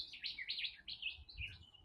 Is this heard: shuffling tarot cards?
no